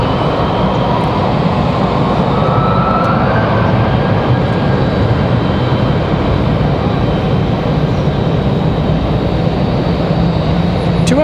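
Southwest Boeing 737-800 airliner arriving at Raleigh-Durham International, a constant dense engine rumble and roar at steady loudness across the whole span, with faint shifting tones riding above and no speech.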